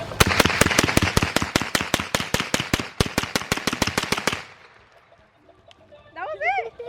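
A rapid string of about 30 sharp .22 LR shots from an H&K MP5 fired in a backyard, loud and close in a steady fast rhythm, then silence as voices start talking.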